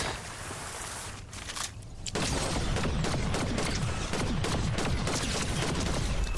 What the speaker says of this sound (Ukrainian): І ти гля, там десь стрілянина така плотна.